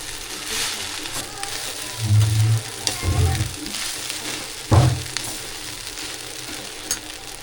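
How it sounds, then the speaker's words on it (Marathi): Oil sizzles steadily through a tempering for kanda poha, with a few low stirring bumps against the pan and faint voices nearby. "पोह्यांची अशी फोडणी व्यवस्थित झाली ना की पोहे छान होतात."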